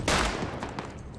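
Gunfire in the Hell Let Loose World War II shooter: a sharp nearby shot opens the second, with fainter cracks and echoing rumble trailing after it.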